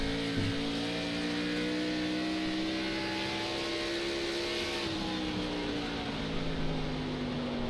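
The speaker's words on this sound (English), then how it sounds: "Let's ride just by riding with him and listening to his engine." A simulated Xfinity Series stock car engine drones steadily in an iRacing race at New Hampshire, its sustained tone rising slowly and then dropping as the throttle eases, heard alone without talk.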